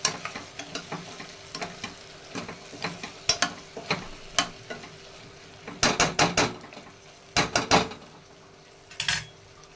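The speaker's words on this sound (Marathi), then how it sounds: "ह्याला परतूया चांगलं तेलामध्ये एक दोन मिनटं परतून घ्यायचं" Brinjal pieces sautéed in hot oil in a pan for brinjal rice, with a spatula scraping and clattering in irregular bursts, some sharp and close, over a low continuous sizzle. No one speaks.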